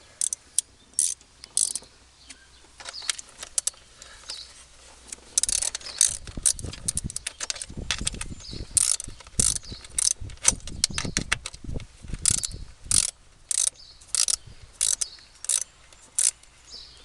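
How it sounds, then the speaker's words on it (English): A ratchet clicks in quick bursts while tightening bolts on a 2010 Dodge Challenger SRT8 engine during a spark plug and ignition coil job, close and crisp with short pauses between runs of clicks. "Torque down your screws or your bolts."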